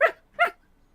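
A man imitating a dog's gruff bark with his voice, two short loud woofs in quick succession, then silence.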